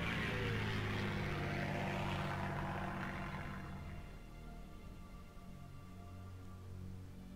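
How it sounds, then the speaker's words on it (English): A strategic bomber in the World at War strategy game gives a propeller-engine drone, loud at first and then gradually receding into a softer, steady hum with no talking. "we do have these strategic bombers."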